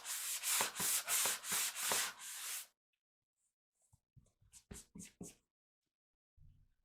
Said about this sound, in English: take some sandpaper, and I'm just going to go over those and get them nice and smooth